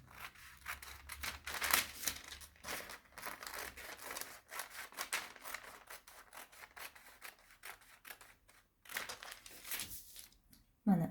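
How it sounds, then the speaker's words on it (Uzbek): Scissors cut an apron paper pattern along its middle line, making continuous close rasping, crinkling paper sounds with short snips and rustles, fairly quiet and uninterrupted. "Mana fartugimizni ham endi o'rtasidagi chizig'idan qirqib ajratib olsak bo'ladi."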